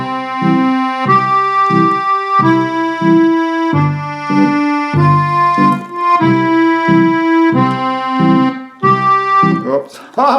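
A digital accordion plays a slow half-note tune, single right-hand melody notes over a steady bass and chord accompaniment, close and bright, ending with a brief stumble at the end.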